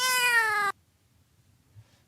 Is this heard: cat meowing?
yes